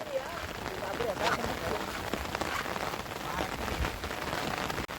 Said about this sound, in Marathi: पाऊस अजून पण थांबला नाहीये